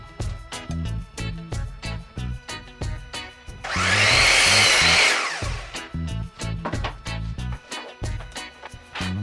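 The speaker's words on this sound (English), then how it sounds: "The first thing I'm cutting is the legs for the triangle." A saw cuts wooden legs for a Pikler triangle climber with a loud, sustained stretch of cutting in the middle. Rapid rhythmic clattering and knocking from the workshop surround it, heard up close.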